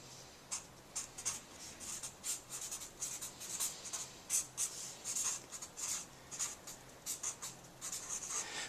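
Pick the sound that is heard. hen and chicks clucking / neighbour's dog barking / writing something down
writing something down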